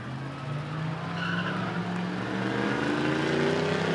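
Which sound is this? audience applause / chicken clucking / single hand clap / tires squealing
tires squealing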